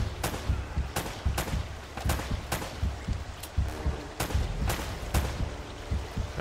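Enemy gunfire in Uncharted: Drake's Fortune, with repeated sharp shots cracking out in irregular bursts throughout, loud and close over a rumbling battle background.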